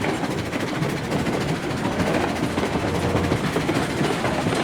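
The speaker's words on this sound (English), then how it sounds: "This is the first time, like I said, a train has been down this track" In the Railroads Online video game, a train rolls down a freshly laid track with a dense, steady rumble and faint rhythmic clatter, loud and continuous throughout.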